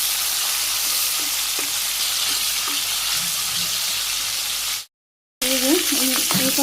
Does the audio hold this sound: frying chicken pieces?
yes